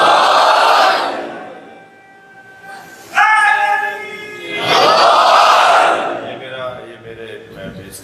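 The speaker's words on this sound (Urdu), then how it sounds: "وہ جواب دینا نہیں چاہ رہے، تم نعرے لگوا رہے ہو" A crowd at a Muharram majlis in Malir, Karachi chants slogans in loud collective bursts, alternating with a single leading voice calling out between them.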